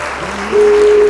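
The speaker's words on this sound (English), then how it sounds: "The crowd goes wild." A studio crowd bursts into applause as a guest is welcomed onto a music lounge talk show, a short, dense wash of clapping that swells and holds steady to the end.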